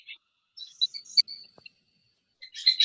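Birds give high, thin chirps and short trills in scattered bursts with silent gaps, fairly close and clear, with no talk.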